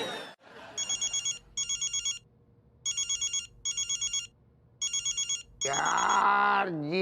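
A telephone rings in a home scene from a comedy series: three pairs of bright, electronic trilling bursts with short gaps between them, loud and close, followed by a warbling, wavering tone.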